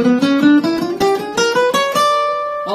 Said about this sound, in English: I'm going to talk about the octatonic scale, which is a derivation of the diminished scale.